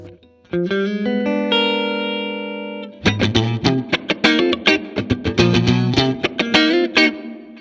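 An electric guitar on both pickups runs through a TONE X Dumble amp plugin, one sustained chord ringing out, then a run of rhythmic, choppy strummed chords, clean and up close.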